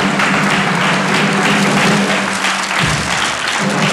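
A fairground crowd breaks into loud, continuous applause, dense clapping filling the scene without pause from start to finish.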